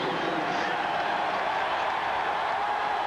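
Crowd roar filling a stadium at a 1991 49ers at Falcons football game, a dense continuous wash of cheering under a commentator's voice.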